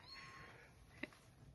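Pet cat in a polytunnel, a single short meow fairly quiet against faint background noise, alone without talk.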